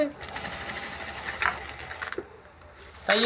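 A sewing machine stitches a seam on a jute bag, running in a steady, even whir for a few seconds with a brief pause and restart near the end.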